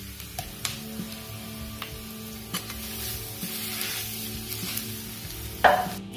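Sorghum flakes are stirred in a pan for a lemon pulihora, with a soft sizzle under scattered scraping and tapping of a spoon and a sharper clatter near the end.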